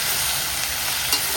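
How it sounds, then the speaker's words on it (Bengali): Potatoes frying in a pan with a dense, loud, continuous sizzle held steady throughout, close and without speech. "আলুটা ভেজে নিচ্ছি ফার্স্টে।"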